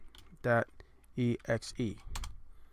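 Keys are struck on a computer keyboard in a few quick, separated bursts of clicking, close and clear, with faint voice-like tones mixed in.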